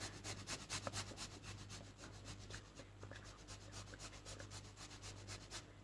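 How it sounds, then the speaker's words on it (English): Lime zest being grated, a fast rhythmic rasping of rapid even strokes against a grater, faint and close with no voices. "I'm going to grate some lime, some zest of some lime"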